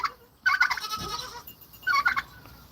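A fainting goat named Paisley lets out two loud, close bleats, one at the start and another near the end, with quieter animal rustling between them.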